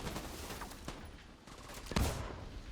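Automated turret firing in The Division during a cluster drone build, a steady stream of rapid gunfire at moderate distance with a few sharper louder cracks and impacts punctuating it.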